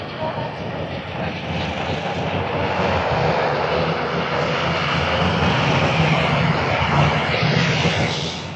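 Flat track racing motorcycles roar in a continuous, fairly loud engine drone as a Georgian race gets underway, the mixed exhaust noise holding steady and swelling slightly before easing at the end.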